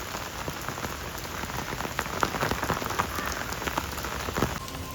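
Steady monsoon rain pours down in Surat at an ashram on the Tapi riverbank, a dense continuous hiss of drops on surfaces with scattered closer splatters and no voices.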